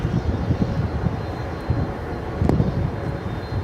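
An American Airlines Boeing 787 airliner at DFW Airport at night gives off a broad, low rumbling roar of jet engines that holds steady and fairly close.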